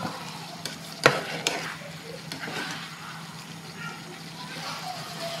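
Pork pigado is stirred in a frying pan with a soft sizzle underneath, broken by a sharp utensil clack near the start and a few lighter scrapes.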